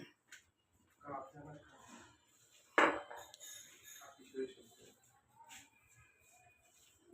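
Balachao, a mash of small dried shrimp, is mixed by hand in a bowl with raw mustard oil, coriander leaves, raw onion and green chilies, giving quiet intermittent clinks and scrapes against the bowl while a voice speaks softly.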